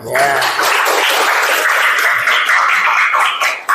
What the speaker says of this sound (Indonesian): aplaus buat kalian